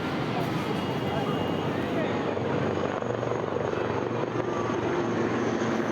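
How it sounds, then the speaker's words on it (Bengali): Military helicopters fly over a Navy Day display at Puri, their rotors a continuous loud whirring roar held throughout, with voices from onlookers mixed in underneath. "এবার সমস্ত হেলিকপ্টারগুলো আবার ফিরে গেল"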